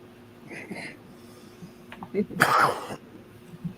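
Quiet chatter and breathing lead into a single sharp, close sneeze with a brief hissing burst, followed by faint murmuring.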